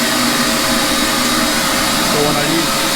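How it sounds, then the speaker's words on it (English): A workshop dust collector linked to a drill press in a small basement shop, a loud, steady roaring whoosh of air that fills the whole clip without a break. "you hear the dust collection come on"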